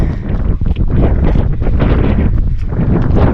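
Strong wind buffets the microphone at the summit of Goatfell on Arran in terrible weather, a loud, continuous roar and rumble, close and unbroken, with no talk.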